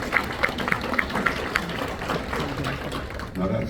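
An audience claps for a speaker at a panel event, steady, moderately loud applause of many hands that continues throughout, with a brief voice underneath.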